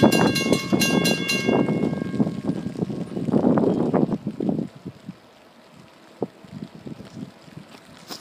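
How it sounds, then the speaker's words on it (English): A CSX freight train rumbles past loudly through a road crossing in Oxford, Ohio, with a steady ringing crossing bell at the start, then the roar fades away, leaving quieter clanks and wind noise. "Here comes the train."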